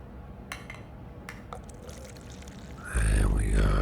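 Fresh water is poured into a drinking glass close to the microphone in a soft, quiet ASMR setting. Small clicks come first, then a full, rising pour runs steadily to the end while a voice murmurs underneath.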